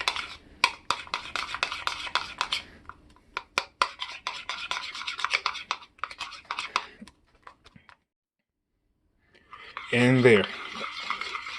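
Candy melts and chocolate stirred in a bowl, a utensil scraping and clinking in quick irregular strokes up close, pausing to near silence before a short burst of louder scraping and brief speech.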